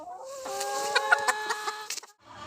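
Laying hens cluck close by in a short, lively run of rising, repeated calls from one or two birds, ending in quiet.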